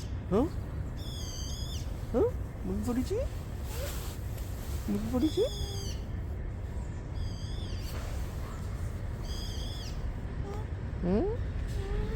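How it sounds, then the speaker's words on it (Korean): A bird repeatedly calls with quick, rising chirping phrases in short bursts at a playground, over a steady low background rumble with occasional faint voices. "새소리 같은데 새소리 새소리"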